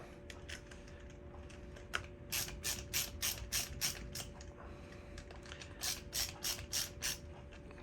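A ratcheting tool tightens screws on an electrical cord cap during a cord repair, giving two runs of close, rhythmic clicking bursts separated by a short pause over a faint steady hum; no talking.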